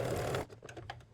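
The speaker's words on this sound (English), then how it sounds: "First, I'm going to put right sides together and sew at a 1/4 inch seam allowance along here." Sewing machine stitching a quarter-inch seam on a shorts pocket bag, a fast continuous run that stops abruptly partway, followed by a few faint clicks and taps.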